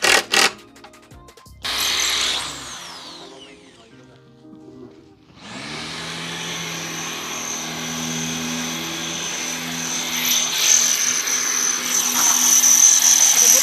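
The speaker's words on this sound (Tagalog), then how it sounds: "Bubutasan ni Dadong para lang bumaon yung screw mamaya." A power drill bores holes into a hard concrete floor for screws, a loud continuous grinding whine that starts after a few seconds of scattered handling noise and holds steady to the end.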